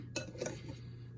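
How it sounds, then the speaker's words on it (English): A utensil mixing green food dye into sugar cookie dough in a bowl, heard as two quick scraping clinks against the dish followed by quieter stirring, close and with no voices. "So we're just gonna mix this in so we can get that green color."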